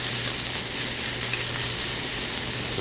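Steak sizzling in hot butter in a pan during butter basting, a steady close frying hiss with no pauses, heard alone.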